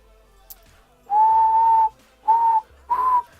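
A person whistling three clear steady notes close up: one long held tone followed by two shorter ones, each pure and evenly pitched against near silence.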